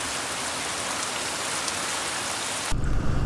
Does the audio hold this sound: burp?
no